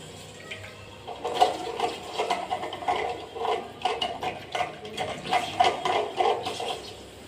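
Water flowing into a household tank, a close, uneven splashing and gurgling stream that swells and dips in irregular pulses, fairly soft and with no voices.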